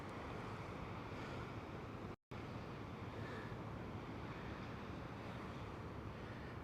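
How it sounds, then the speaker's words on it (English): Strong wind buffets the microphone in a steady, rushing roar with no clear pauses, on the open beach at Coney Island, New York. "You can tell how windy it is."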